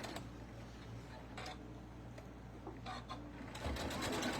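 A domestic sewing machine stitches a fabric shoe bag and backstitches, giving a quiet, steady mechanical whirr with a regular fast ticking that stops briefly and restarts near the end.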